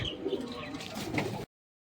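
Several pigeons coo softly and close by, overlapping low murmuring calls with a brief chirp, ending abruptly in silence.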